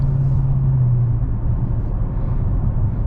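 A Dodge Charger Scatpack Widebody's engine rumbling hard under throttle, a steady low drone with a strong low tone that holds near and loud, easing slightly as it continues.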